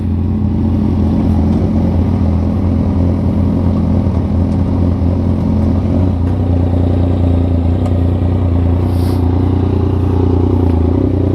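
A Yamaha MT-09 three-cylinder motorcycle engine runs close and loud, giving a steady, unbroken mechanical drone with a faint clattering edge that never pauses.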